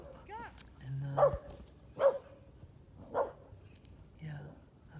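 A dog barks several times at a slow, uneven pace, fairly close, with short sharp yips between the barks against a quiet indoor background.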